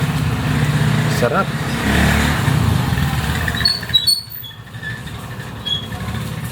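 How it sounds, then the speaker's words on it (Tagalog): A motorized tricycle putters past outside a home kitchen, its engine rumble rising and then fading over about four seconds while someone talks indoors over it. "Meron pong dumadaan na tricycle."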